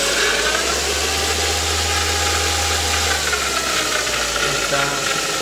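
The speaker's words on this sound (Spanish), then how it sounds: "Vamos a encender el vehículo." A 2005 Ford Focus engine, fitted with a faulty accessory belt and leaking power steering hydraulics, runs at a steady idle, a loud continuous low hum with broadband hiss layered over it from start to end.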